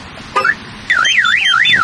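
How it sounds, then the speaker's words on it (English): A Dodge Hellcat's aftermarket car alarm blares close and loud: a brief chirp, then a continuous rising-and-falling warbling siren that fills the rest of the clip. "The alarm on here."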